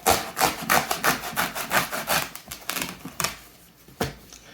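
Pool noodle foam being cut into small pieces while packing graded slabbed comic books, a run of close rhythmic scraping, squeaky cutting strokes that slow and become sparse toward the end.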